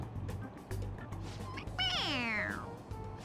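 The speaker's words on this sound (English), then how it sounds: "It meows when you press on its head." Stuffed toy cat in Persona 5 Royal lets out a single drawn-out, sliding meow when pressed, clear over a low background hum.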